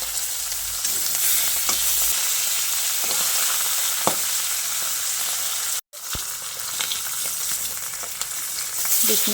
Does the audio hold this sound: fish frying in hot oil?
yes